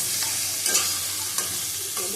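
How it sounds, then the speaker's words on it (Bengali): Curry with turmeric and chili powder sizzles steadily in a pan while a spoon scrapes and stirs it in a few soft strokes, close by and with no talking. "দিলাম হলুদ 1/2 চামচ মতো। আবার ভালো করে কষিয়ে নেব।"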